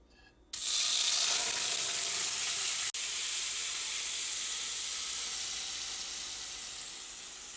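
Sofrito dropped into a hot pan for Spanish-style rice with Spam, a sudden loud hiss that settles into a steady sizzle, fading slightly toward the end, with one brief dropout midway.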